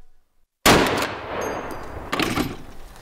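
A .50 BMG GM6 Lynx rifle with a folding barrel fires a single shot while the shooter stands: a sudden, very loud close blast that rolls on into a long echoing rumble, with a second swell of echo following.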